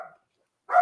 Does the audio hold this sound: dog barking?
yes